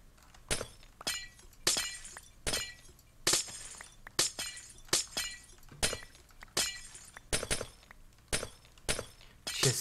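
Glass window panes shattering in the Minecraft video game: a rapid string of sharp, crisp breaking crashes about every half second, close and fairly loud, with no talk over them.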